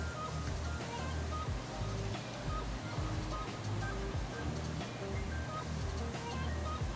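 Automatic car wash in a Vancouver condo building's wash bay sprays water over a car, a steady broad rushing hiss with a low rumble that holds unbroken throughout.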